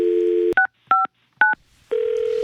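A dial tone sounds, then three short touch-tone beeps come at even intervals, and a steady tone returns as a telephone call is placed.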